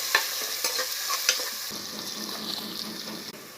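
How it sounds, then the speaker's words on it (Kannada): Chopped onions fry in a pan for chicken tikka biryani, a close, steady sizzle broken by several sharp stirring knocks and scrapes, with no talking. "ಈರುಳ್ಳಿ ಹೆಚ್ಚಿದ್ದು ಆ್ಯಡ್ ಮಾಡ್ತಾಯಿದ್ದೀನಿ. ಸ್ವಲ್ಪ ಚೆನ್ನಾಗಿ ಫ್ರೈ ಆಗಬೇಕು."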